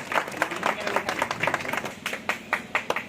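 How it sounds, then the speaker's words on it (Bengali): A crowd claps at a police day blood donation camp held at a police outpost, brisk irregular applause of moderate loudness lasting a few seconds, with voices faintly mixed in. "আপনারা সকলে একটু হাততালি দেবেন।"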